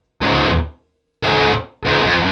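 Three loud bursts of distorted electric guitar through distortion pedals and a noise suppressor, each cut off sharply into silence, the gaps left clean without hiss.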